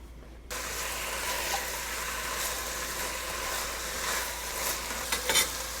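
Onions cook in a pot of oil over medium-high heat with a steady, close sizzle, broken by a few stirring scrapes and clinks toward the end, with no voices.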